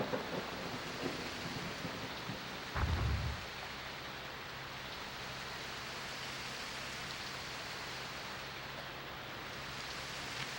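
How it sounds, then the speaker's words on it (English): A thunderstorm in Jurassic Park Operation Genesis: dense, steady rain hiss fills the scene, with one short, heavy rumble of thunder breaking through early on before the downpour continues alone. "There is a storm approaching the island."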